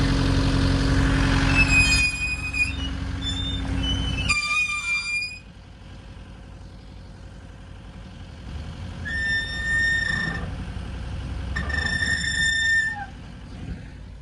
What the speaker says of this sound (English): now the squeak it's so loud you can't even drive this thing